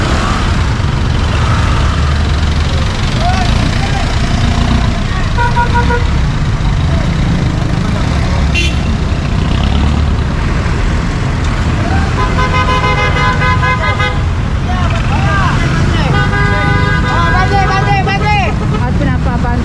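Busy road traffic with cars and motor vehicles rumbling past, broken by several short horn toots in the second half, while a person talks throughout over the steady engine noise.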